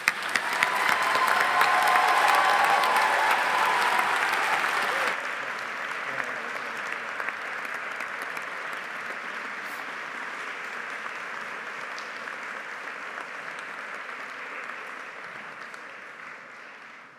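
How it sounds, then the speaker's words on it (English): Big audience at a university graduation ceremony for Humanities & Social Sciences applauds as graduates return to their seats. Sustained, dense clapping is loudest over the first five seconds, then settles into a steadier, softer round that carries on to the end. "let's just give them all a big applause."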